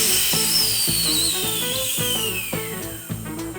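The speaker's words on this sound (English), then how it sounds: "Close the bleeder valve, connect the airline, and start the compressor." A DIY portable air compressor for off-road camping, bolted into a case on polyurethane washers, runs with a steady motor drone, regular thumping pulses and a thin falling hiss, close and continuous.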